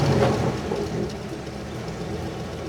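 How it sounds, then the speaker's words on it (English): Cadillac Ecto-1 restomod with dual stainless exhaust, its engine giving a deep steady rumble close by, a little louder at the start and then settling into an even idle. "I love the rumble."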